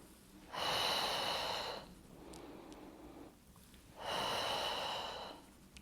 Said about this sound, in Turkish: Nefes al, ver.